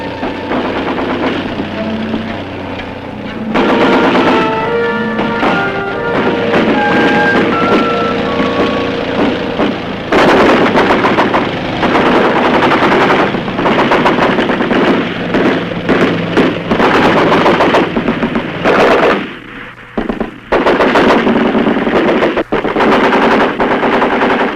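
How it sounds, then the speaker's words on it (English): Bursts of machine-gun fire and artillery pound an enemy position in the Vietnam War, loud and continuous, with a vehicle engine rumbling and a few tonal beeps underneath. "artillery units fire concentrations on the entire enemy position"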